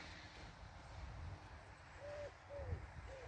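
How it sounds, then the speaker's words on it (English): Pigeons in trees coo in a few soft, repeated low calls, faint and distant, over steady outdoor background noise with no talking. "there's a lot of pigeons fighting behind me in the trees"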